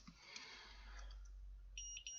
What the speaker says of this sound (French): on va remettre le petit bip, comme ça vous entendrez.